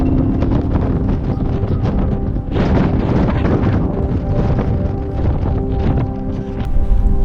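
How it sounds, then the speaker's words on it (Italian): Strong, cold wind on a mountain summit in the Apennines buffets the microphone continuously, a loud roaring rumble with gusty swells throughout and no speech. "qui è freddissimo, c'è un vento della Madonna"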